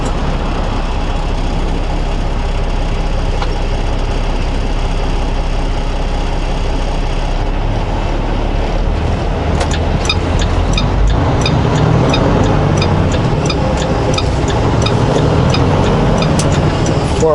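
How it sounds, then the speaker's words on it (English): A car travels behind a truck towing an RV on a valley road, its engine noise blending with the steady low rumble of the heavy truck engine, continuous and fairly loud throughout. "Another car coming after the RV."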